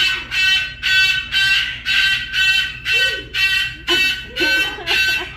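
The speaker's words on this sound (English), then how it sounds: "Oh, they set the alarm off." A loud electronic alarm at a safari park in Pineville, Louisiana beeps in a steady repeating pulse, about two blasts per second, with brief voices faintly beneath it.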